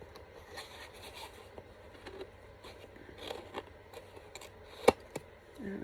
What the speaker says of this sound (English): Handy dandy scissors.